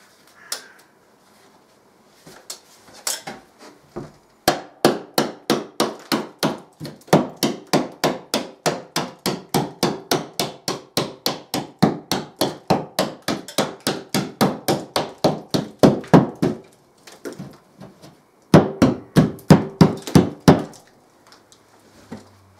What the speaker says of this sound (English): First of all, with the hammer.